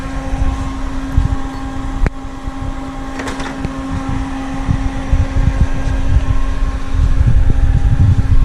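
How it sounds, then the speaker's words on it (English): A large AC recovery machine draws refrigerant out of a Nissan 350Z with a loud, steady fan-like hum and drone, joined by a few sharp clicks and clanks close by. "We're sucking out all the freon with this giant AC machine."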